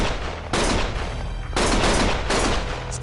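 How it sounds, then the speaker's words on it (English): Gunfire in the video game Lost Judgment comes in three loud, dense bursts of rapid shots, each about a second long, separated by short lulls of lower background noise. "Stop shooting!"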